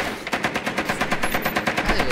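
Rapid, steady automatic gunfire in the tactical shooter Rainbow Six Siege, a loud stream of evenly spaced shots running through the whole stretch with no talking.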